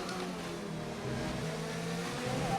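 A Formula 1 car engine in F1 2019 at the Australian Grand Prix, a steady high-pitched racing drone that builds slightly as it comes back up to speed, moderately loud with no talking.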